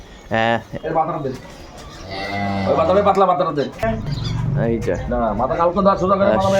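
Dairy cows and calves moo in long, low calls at the Raniganj cattle market in Dinajpur, Bangladesh, one short call early and then several drawn-out lows close by, with people talking in the background.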